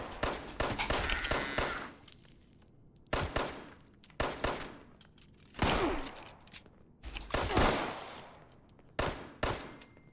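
Bursts of automatic gunfire crack out in the video game Fallout 76: sharp volleys and rapid strings of shots separated by brief pauses, loud and close, with no talking.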